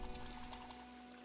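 Water pouring into a tumbler in the survival game Project Zomboid, a short steady pour with a soft splashing wash that runs evenly throughout.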